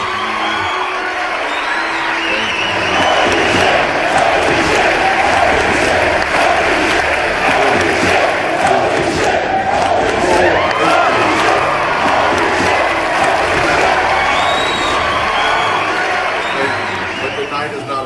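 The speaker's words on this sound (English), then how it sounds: "please hold your applause" Dense crowd applause with cheering and whoops at a fantasy football awards ceremony, a loud, steady roar of clapping and shouting that continues for the whole stretch.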